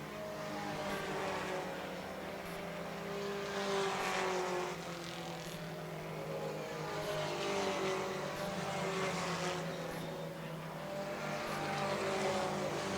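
Race cars in a 4-cylinder pro stock race on a short oval take the final laps, engines droning steadily and swelling as the pack passes through turns three and four, with a continuous loud roar throughout.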